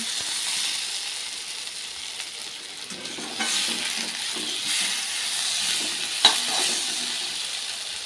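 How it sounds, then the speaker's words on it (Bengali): Potato and pointed gourd fry in a pan with a steady, close sizzle and hiss, broken by occasional stirring scrapes. "লাল লাল করে ভেজে নেব"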